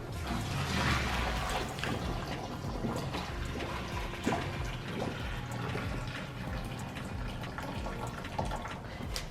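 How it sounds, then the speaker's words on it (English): Water drains and splashes from a boil-in-bag of cooked rice into a sink, a continuous close gurgling pour with small splashes and no voices. "Now with the bag rice, literally you just drain the water."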